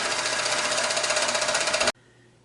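A longarm quilting machine stitching across a quilt row, a loud, steady, fast mechanical hum and rapid stitching that cuts off abruptly and leaves a quiet room.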